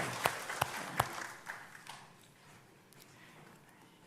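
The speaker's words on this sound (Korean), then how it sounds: "우리 하나님께 영광의 박수 올려드리시겠습니다." A church congregation applauding during a special early-morning prayer service, with sharp individual claps at first, then a loose scattering of clapping that trails off into quieter, sparse hand claps.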